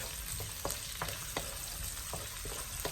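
Garlic sizzles steadily in hot oil as it fries to golden brown, a dense crackling hiss with occasional sharper taps of stirring, close and fairly quiet, no voices.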